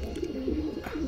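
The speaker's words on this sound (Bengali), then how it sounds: "এটা নর পায়রা" A male pigeon coos softly and close by in a short run of low, throaty rolling notes.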